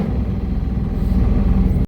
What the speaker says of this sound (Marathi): गाडी एवढी फुल स्पीड चालू आहे